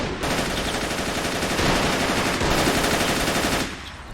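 Sustained machine gun fire in the World War II strategy game Men of War: Assault, a dense, loud, unbroken rattle of rapid shots lasting several seconds before cutting off.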